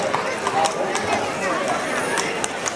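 Horse hooves clip-clop at a fair, a quick, steady patter of hoofbeats on the ground amid crowd noise, with someone talking over it throughout.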